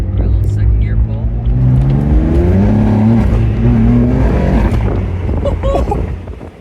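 BMW M4 fitted with aftermarket midpipes pulling hard through second gear, a loud, raspy engine note climbing steadily in pitch with wind buffeting the microphone, then easing off at the end.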